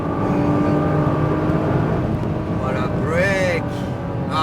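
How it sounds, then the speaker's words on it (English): A Nissan GT-R Premium accelerates at full throttle on an autocross course, its engine a steady whirring drone that climbs in pitch with a rising shift sweep, heard under an instructor's continuous talk. "Get on the gas, aim at the wall. Full throttle. Stay on the gas. It will upshift by itself."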